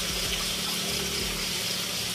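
Water being drawn from a well, a steady continuous gushing and splashing flow, close and fairly loud, with no talking.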